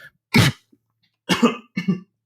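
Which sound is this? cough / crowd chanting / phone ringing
cough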